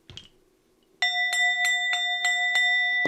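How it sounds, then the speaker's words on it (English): A ringing bell struck about seven times in a steady rhythm during a spiritual blessing ritual, each strike clear and close with a sustained shimmering tone that rings on between hits, following a brief quiet opening. "I'm going to be hitting the bell."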